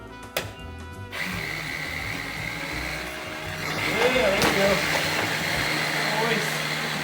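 A power drill drives Tapcon screws into a floor ramp, which is also fixed down with Lexel sealant. A steady, fairly loud motor whir runs throughout and grows slightly louder partway through.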